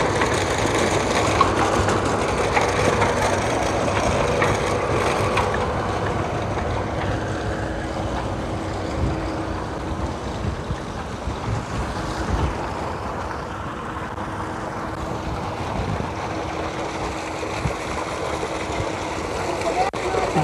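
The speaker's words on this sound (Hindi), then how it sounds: "ये ट्यूबवेल चलती पई है" A village tubewell pump runs with water gushing out, a steady engine drone and rushing flow filling the whole stretch, with a voice talking at times over it.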